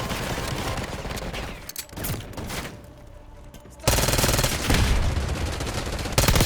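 Black Ops 6 multiplayer firefight in a map hallway: rapid bursts of automatic gunfire, loud and close, with a quieter lull in the middle before heavy continuous shooting resumes.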